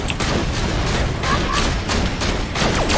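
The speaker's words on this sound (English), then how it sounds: "Why is everything exploding?" Chaotic explosions and gunfire in Borderlands: The Pre-Sequel, with repeated booms and bursts in a dense barrage under co-op players' talk.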